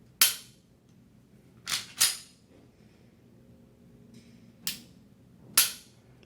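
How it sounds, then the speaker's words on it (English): Glock pistol trigger dry-fired, five sharp close clicks at irregular intervals, two of them in quick succession, with quiet room tone between. "Here's the trigger on the Glock."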